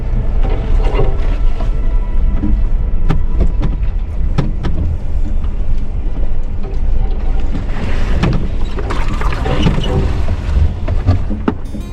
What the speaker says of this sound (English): I am driving through bushes right now.